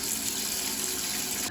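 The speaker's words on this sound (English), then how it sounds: "I'm gonna go ahead and fill my canner with water and get that going." Tap water gushes into a canner, a steady, close rushing stream that holds evenly before cutting off abruptly at the end.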